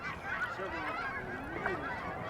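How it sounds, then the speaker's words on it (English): A flock of geese honks continuously in the distance at Nestucca Bay National Wildlife Refuge, overlapping calls forming a steady, moderately loud chorus with no talking. "Birds, geese, waterfowl, you can hear them in the background as you're paddling."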